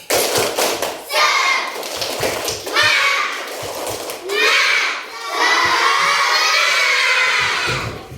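Schoolchildren in a classroom perform a teacher-led 'tepuk semangat' clapping cheer, with rhythmic bursts of claps and taps broken by loud group chanting and shouting in several phrases.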